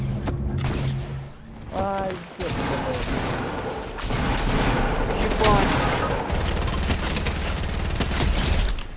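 Rapid bursts of Fortnite Zero Build gunfire crackle throughout, layered over a busy mix of game effects, with a voice talking intermittently underneath.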